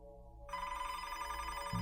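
A telephone rings with a sustained electronic tone that starts suddenly and holds steadily over a low background hum, clear and fairly close, with no voices.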